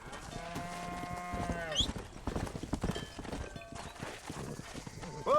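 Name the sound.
cattle herd and horse hooves in Red Dead Redemption video game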